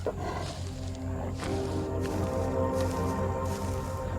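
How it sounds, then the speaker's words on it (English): A big cat, a lion, gives a deep, far-carrying roar, a low rumbling call with rhythmic grunting pulses, fairly faint and distant over outdoor ambience. "His far-carrying roar warns any audacious intruder."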